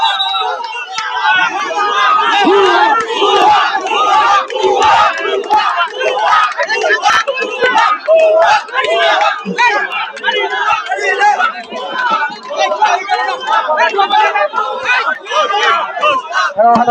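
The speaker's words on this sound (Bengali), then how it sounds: "ভাই আপনারা এই ধরনের স্লোগান দিয়েন না ভাই" A crowd of protesters at a ministry for expatriate welfare shouts slogans in loud, rhythmic chants, with many voices close together. The massed calls continue with little pause, mixed with agitated chatter.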